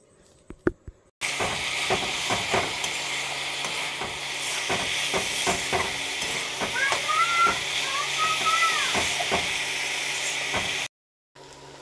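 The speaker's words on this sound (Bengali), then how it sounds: "আর সবজিগুলো একটু তেলে ফ্রাই করে নেব" Vegetables frying in hot oil give a loud, steady hiss and sizzle after a brief quiet start, broken by repeated clatters of stirring, before cutting off near the end.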